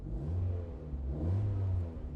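A 1994 Mazda Miata engine revs up with a deep, throaty exhaust rumble, rising and falling in steady bursts, close and fairly loud with no talking.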